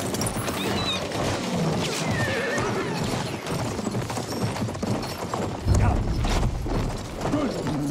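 Horse in a Battlefield war game whinnying over clip-clopping hooves amid busy combat noise, with voices talking over the scene.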